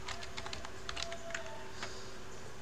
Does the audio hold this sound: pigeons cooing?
no